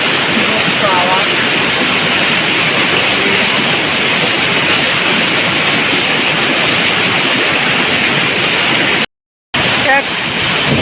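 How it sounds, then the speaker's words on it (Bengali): Hidden waterfall in the Ayodhya hills of Purulia, a steady loud broadband roar of rushing water throughout, with faint voices underneath and a brief dropout near the end. "এক অজানা ঝর্ণা লুকিয়ে আছে অযোধ্যা পাহাড়ের মধ্যে"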